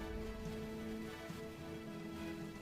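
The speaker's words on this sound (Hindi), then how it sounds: "बारिश हो रही है।" Steady rain falling, a dense even patter that stays constant and moderately close throughout, with no voices over it.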